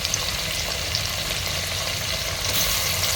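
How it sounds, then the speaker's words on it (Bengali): Sliced onions and green chilies fry in oil with salt, a dense, steady sizzle that holds evenly throughout with no talk over it. "এখানে আমি কিছু পেঁয়াজ দিয়েছি তেলের মধ্যে, পরিমাণ মতো লবণ দিয়েছি"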